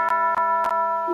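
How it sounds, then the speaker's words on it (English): A bell rings in the video game Ayakashi Akashi, three sharp chimes struck at a steady pace over a sustained ringing tone with layered overtones, clear and close with no talk. "It's the bell."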